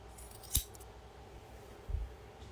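Scissors trim material in two crisp, quiet snips about a second and a half apart, set against near silence.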